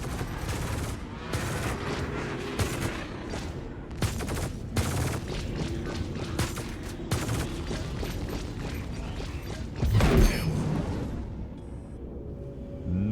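Spaceship guns firing in the Star Citizen video game, dense bursts of rapid mechanical gunfire with rattling, pulsing repetition, loud and continuous, with a heavier impact blast near the end.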